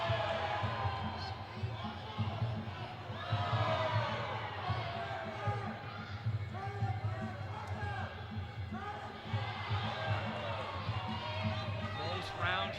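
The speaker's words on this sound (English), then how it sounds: "I'm hearing the fans cheer every time there's a knee" Fans at a fight between Samuel Mongonia and Jonathan Tan cheer and shout in bursts, rising and falling under continuous ringside commentary.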